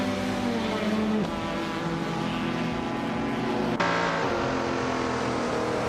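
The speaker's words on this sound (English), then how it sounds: "Lian Yashin is driving a Porsche 911 RS from 1973." A 1973 Porsche 911 RS racing in a video game, its engine holding a steady loud drone with shifting pitch and two sharp gear changes, blended with other cars running close by.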